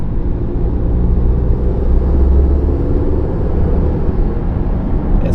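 A Hongqi H5 sedan accelerating in comfort mode, staying low in the revs, with a heavy, steady engine and road drone that swells slightly midway and stays close and loud.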